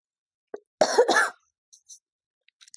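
A short cough burst, a faint click before it and small breathy sounds after, against near silence.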